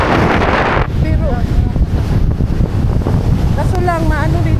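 Strong wind roars outdoors and buffets the microphone in a steady, loud rush, with faint bird chirps and voices nearby.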